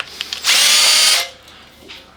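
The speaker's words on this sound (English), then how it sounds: "get these holes drilled out" A power drill bores into a robot part in one short burst of high whine lasting under a second, near and loud, with light handling clicks before and after.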